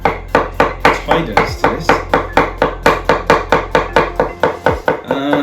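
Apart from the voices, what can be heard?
chopping cucumber on a board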